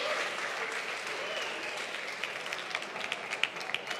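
Applause from a school event audience, a steady wash of many hands clapping at moderate volume that thins out toward the end into more scattered individual claps.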